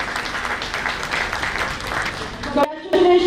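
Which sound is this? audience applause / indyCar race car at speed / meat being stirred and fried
audience applause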